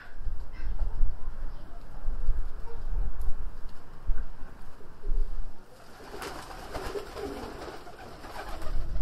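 Karabozalı pigeons coo in soft, repeated low murmurs close by, layered over a rustling, shuffling background, with a quieter patch midway before brighter flutters and coos return.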